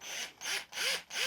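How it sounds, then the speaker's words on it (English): A 5/16 inch bit drills into cherry wood for a fishing lure, four short grinding bursts in a row separated by brief pauses, close and fairly loud. "I'm going to go ahead and drill out half the amount of volume I need,"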